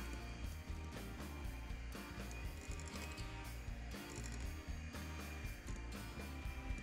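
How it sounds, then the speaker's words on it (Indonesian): An electric mixer on low speed stirs dry cake ingredients, giving a steady whirring motor hum with a faint rhythmic mechanical rattle throughout, close by and without speech. "kita masukkan dulu bahan kering sambil dimixer dengan speed rendah"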